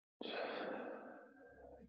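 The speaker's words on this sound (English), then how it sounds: "Keep breathing out." A long, steady breath out during a qigong exercise, a soft airy exhale that rises quickly and slowly fades over nearly two seconds, close and alone.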